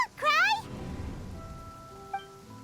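Steady rain falls in the Genshin Impact game world, a soft continuous wash under a sustained melodic tone, with a brief chime near the end.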